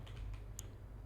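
A handful of quick, faint keystrokes on a computer keyboard tap out over a low steady hum, close and brief.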